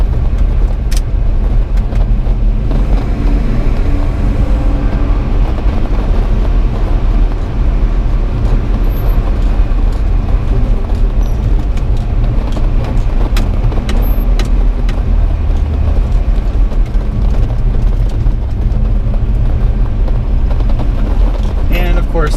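A 1986 Toyota pickup truck drives along a winding country road, its steady engine drone and road rumble continuous and close throughout, with occasional faint rattles over the constant low noise.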